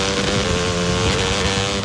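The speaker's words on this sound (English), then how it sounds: "You wouldn't ride your dirt bike blindfolded." Dirt bike engine revving steadily in a radio advertisement, a loud, continuous motor drone with a buzzing harmonic whine lasting throughout, no talk over it.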